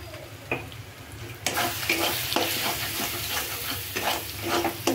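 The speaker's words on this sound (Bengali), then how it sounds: "ভালো করে একদম ভাজা ভাজা করে নেব।" Ground spices including turmeric, Kitchen King masala and Kashmiri red chilli frying with onion and chicken in a pan, a quiet start giving way to a loud close sizzle with repeated scraping stirs, no voices.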